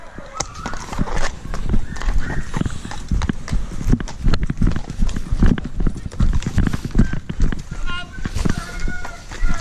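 Horse hooves clip-clopping at a hunt gathering in open country, rapid irregular hoofbeats mixed with crowd noise and people talking and shouting over them.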